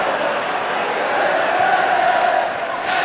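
Packed all-ticket crowd of about 60,000 at Old Trafford for a Manchester United against Everton football match, a steady loud roar that swells slightly and fills the whole stretch, with no clear speech.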